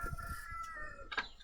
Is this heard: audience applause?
no